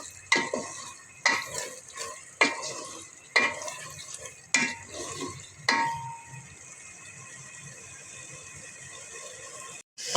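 Three tomatoes sauté in a pan for chicken bhuna, stirred with about six sharp scraping strokes at a steady rhythm, then settling into a quiet, even sizzle.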